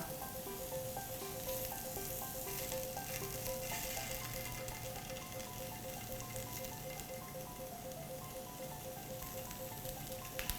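Vegetarian barbecue skewers sizzling steadily in sesame oil on a hot pan, a close, continuous crackling hiss with fine popping throughout and no talking.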